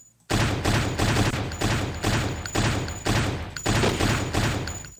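Gunfire in the Flash game Thing-Thing rings out as a loud, rhythmic series of about eight close, heavy bursts evenly spaced over a few seconds, with no voices.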